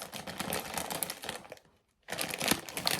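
Crinkly plastic snack bag of creamy lobster flavored chips being torn open by hand, a dense stretch of crackling and rustling, a brief silent gap, then another burst of close crinkling.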